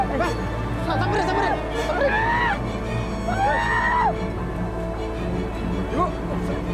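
Distant screaming carries through the forest near a river waterfall at Curug Poek, as faint rising and falling yells and voices under the steady roar of rushing water.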